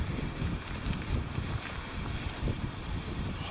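Wind blows steadily outdoors at a winter hammock camp, a constant rough rumbling buffet with gusty low-frequency noise and no voices.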